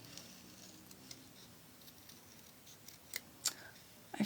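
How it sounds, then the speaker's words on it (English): Scissors snipping around a small paper card piece for a handmade card, a few quiet cuts building to sharper, closer snips near the end, no talking. "we'll cut this little guy out"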